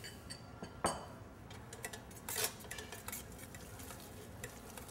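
An All-Clad food mill is cranked through roasted tomatoes and garlic, producing soft irregular scraping and squishing with a few sharper metallic clicks and one louder grinding burst, close and quiet with no talking.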